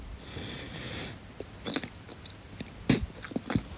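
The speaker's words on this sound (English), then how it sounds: "all you hear is me chewing." Chewing with crunchy bites and a sniff, heard up close and fairly quiet, a few distinct crunches and mouth noises clustered in the second half over faint room noise.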